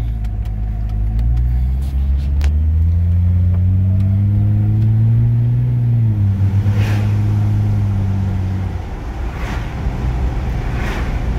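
A Jeep 4.0 engine, just fitted with a new upstream oxygen sensor after misfiring, idles steadily with a deep, even rumble, rising slightly for a few seconds before settling back to a smooth idle.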